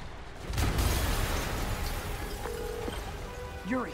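A deep, rumbling explosion in the video game Marvel's Spider-Man Remastered on PS5 erupts and then trails off into a low, noisy roar, followed by some brief electronic chirps near the end.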